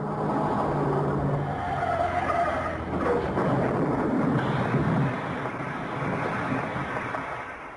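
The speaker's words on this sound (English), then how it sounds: "There had been a car crash." A car skidding and crashing, heard as a long roaring, hissing rush of tires and engine noise that swells and fades over several seconds, loud and dense throughout.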